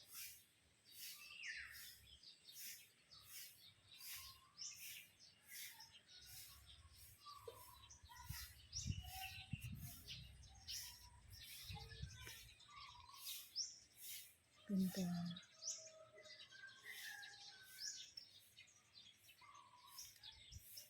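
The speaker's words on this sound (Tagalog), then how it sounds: "Daming ibon." Many small birds chirp and tweet in dense, overlapping calls through a bright outdoor spot full of flowers, steady and moderately near, with a few brief spoken words and some low handling rumble underneath.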